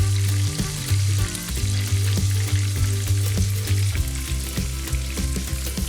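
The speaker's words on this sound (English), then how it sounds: "So now I'm just gonna cook the garlic until it's aromatic." Garlic, peppers and basil frying in a pan make a continuous crackling sizzle under a steady, thumping low musical beat, close and loud without talk.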